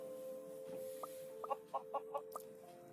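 A chicken in the video game Mini World clucks in a quick run of short, evenly spaced clucks over a steady game music drone, fairly faint and with no talking.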